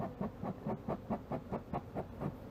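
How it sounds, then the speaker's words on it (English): Beekeeper's smoker working the bellows during a hive inspection, giving about nine evenly spaced breathy puffs in a steady rhythm, close and moderately loud. "Let's get this smoker puffing good"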